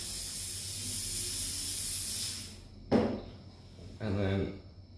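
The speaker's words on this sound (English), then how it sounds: "I'm going to spray from the back so I don't get hairspray in the eyes." A long continuous hairspray burst hisses for a few seconds over a mini poodle's coat, then stops; a couple of short clicks or handling sounds follow nearby.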